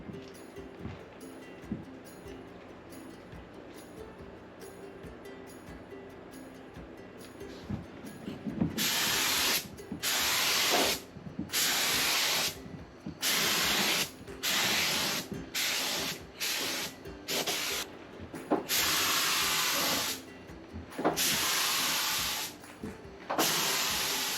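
Bursts of loud spray gun hissing applying clear coat to a 1987 Jeep Wrangler start and stop repeatedly, each lasting a second or two, after a quieter stretch of faint clicks and handling noise.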